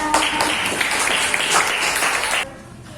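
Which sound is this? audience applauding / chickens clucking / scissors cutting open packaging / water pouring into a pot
audience applauding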